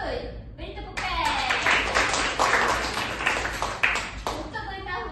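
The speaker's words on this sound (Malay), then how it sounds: "Beri tepukan." Classroom applause during an Islamic education lesson for Year 6 pupils, a steady wash of clapping lasting several seconds at moderate level, with voices mixed in.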